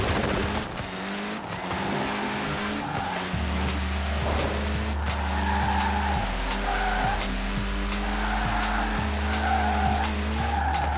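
Car power sliding in Forza Horizon 4, a steady engine drone with shifting pitch under a long, wavering tire squeal that keeps going throughout, loud and close, no talk.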